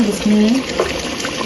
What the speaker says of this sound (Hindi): दाल डाल देते हैं और ये दाल का पानी है